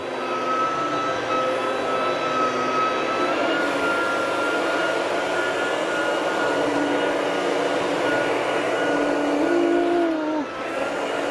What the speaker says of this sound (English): It's not the quietest Sebo vacuum, that I tell you right now.